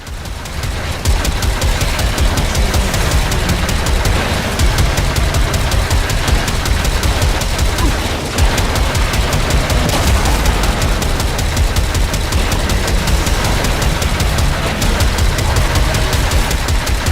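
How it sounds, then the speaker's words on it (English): Grenade launchers firing nonstop in the Warframe video game, a dense rapid rattle of shots and blasts that holds steady and loud for the whole stretch, with one brief dip midway. "I love these grenade launchers"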